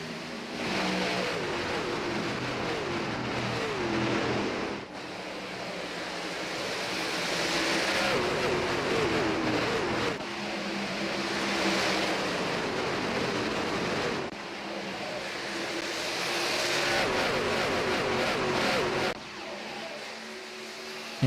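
A field of stock-style trucks accelerating on a race restart at Indianapolis Motor Speedway, dense engine roar surging and fading in long sweeps with a commentator's voice over it.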